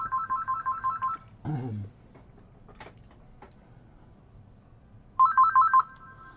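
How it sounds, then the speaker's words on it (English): A telephone at a guitar shop rings in rapid electronic pulses, stops amid a thud and some handling clatter, then a short second burst of ringing follows, loud and close. "Might have to answer a phone call here."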